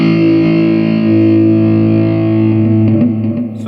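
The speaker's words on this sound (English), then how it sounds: "Delay by the pedal." Distorted metal guitar tone from a Zoom G3Xn multi-effects pedal with expression-pedal-controlled delay, a loud held chord sustaining throughout, then a few repeated picked notes and echoing trails toward the end.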